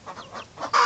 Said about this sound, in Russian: Это были цыплята.